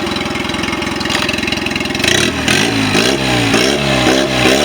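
Mercury 9.9 HP outboard motor from 2019, with freshly cleaned carburetors, running steadily in gear, its close, loud idle chugging rhythmically before the throttle opens into a rougher, rising revving note.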